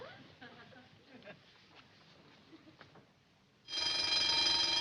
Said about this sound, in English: the phone's ringing in there